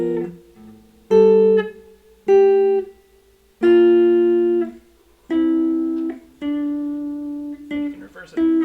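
A horn plays two voices in contrary motion, the upper line stepping down a scale while the lower climbs to meet it, heard as a series of sustained, separate notes with short gaps between them and no talking.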